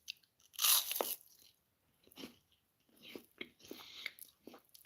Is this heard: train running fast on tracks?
no